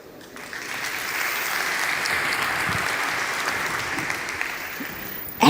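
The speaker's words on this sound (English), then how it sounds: "the audience here at the Global Logistics Forum will break into spontaneous applause" Spontaneous audience applause at the Global Logistics Forum swells quickly and holds steady, a full crowd clapping continuously for several seconds.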